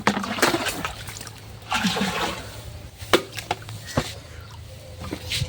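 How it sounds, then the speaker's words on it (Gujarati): Water pouring and splashing while a container fills, with uneven gushes, trickles and occasional sharp splashes close by over a steady background. "થોડું પાણી આવે છે"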